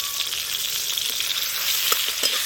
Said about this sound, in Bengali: তেল গরম হয়ে গেছে তেলের মধ্যে টমেটো কুচি দিয়ে দেব